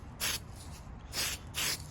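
Aerosol spray paint going onto a Lexan RC car body in a third coat, three short, close hissing bursts separated by brief pauses.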